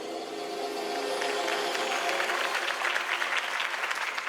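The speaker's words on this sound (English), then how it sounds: "could have heard that applause" A crowd claps continuously, a dense and steady wash of applause that swells slightly toward the end, with no talking on top.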